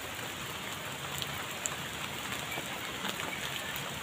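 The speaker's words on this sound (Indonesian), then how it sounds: "Ini tuh hujannya deras sekali sahabat." Heavy rain pours down steadily in a village, a dense continuous hiss with occasional louder drops splashing nearby.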